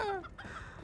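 A chicken in Far Cry 5: Lost on Mars gives a short squawking cluck that falls in pitch, followed by a faint muffled rustle.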